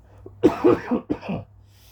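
A person coughs several times in quick bursts, close and fairly loud, with short pauses between coughs.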